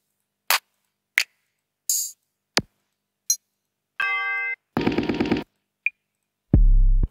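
Drum samples for an evil plugg type beat played one by one: sharp clicks and snaps, a short ringing ping, buzzy tonal hits, a rattling stuttered sound and finally a deep booming 808, each separated by silence.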